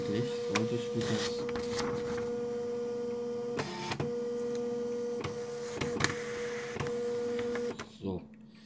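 An old dot matrix printer runs with a steady tonal whine and rhythmic rasping passes of the print head, broken by sharp mechanical clacks, before stopping abruptly near the end.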